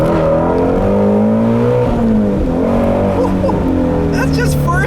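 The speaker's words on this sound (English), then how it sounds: "And another acceleration here." A 2016 Shelby GT350 accelerates hard through first and into second gear, its engine note climbing loud and close with a brief dip at the shift before rising again.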